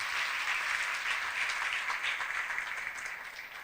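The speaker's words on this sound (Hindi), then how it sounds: "यीशु के जलाल के लिए जोरदार तालियां।" A church congregation applauds loudly, a dense steady wash of clapping that holds strong throughout and only eases slightly at the end, with no voices standing out.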